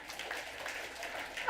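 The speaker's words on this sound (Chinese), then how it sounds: "阿们，掌声。" A church congregation applauds during a Sunday second service, a brief steady wash of distant clapping at moderate level with no voices over it.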